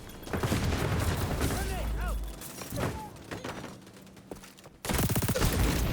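Gunfire in the video game XDefiant, played on an ASUS ROG Ally, comes as dense bursts of rapid shots and booms over game effects, fading briefly before a loud volley resumes near the end.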